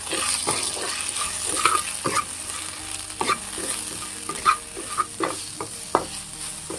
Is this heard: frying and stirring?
yes